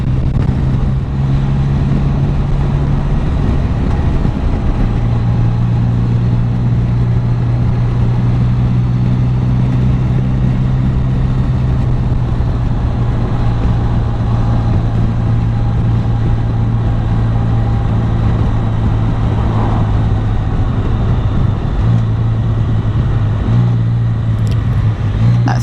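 A Can-Am Spyder three-wheeled motorcycle rides uphill through the Cairngorms toward the Lecht, its engine a steady loud drone with a shifting low tone, mixed with continuous wind rush and no talking.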